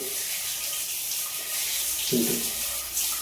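Municipal tap water runs in a steady, hissing stream, close and moderately loud, with a faint low murmur near the end.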